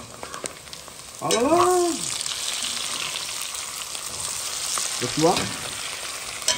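Thyme and four-spice mix stirred in a frying pot for a Réunion-style smoked Ti Jacques curry, with a steady sizzle throughout and a voice speaking over it near the start and again near the end.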